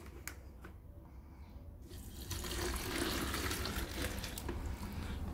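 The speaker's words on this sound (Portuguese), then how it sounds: "Aqui eu vou acrescentar 1 litro de água." A liter of water pours into a banana-straw fertilizer mix, a steady splashing, rushing stream that grows louder partway through and continues unbroken to the end.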